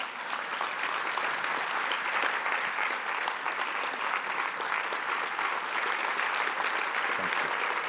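A large plenary audience at the TriCon 2025 conference applauds speaker Ed Futa, producing dense, sustained clapping that stays even and full for the whole stretch without any voices on top.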